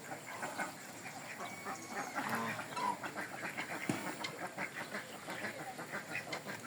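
A flock of ducks, including a white drake, quacks and honks continuously at a distance during feeding, in a steady busy chatter.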